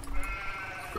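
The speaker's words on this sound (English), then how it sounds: "Just ignore that sheep there." A sheep bleats once, close and fairly clear, in a farm-driving video game set beside a fence and gate.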